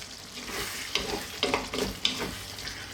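Beef curry seasoned with garam masala and fresh coriander is stirred in a pan off the heat, giving several distinct scraping stirs over a faint steady sizzle, close and moderately loud with no talking.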